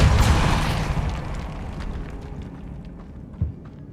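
Depulso force spell cast in Hogwarts Legacy inside a tomb near an altar, opening with a loud, close blast that rolls into a long, fading rumble, with a small thud near the end.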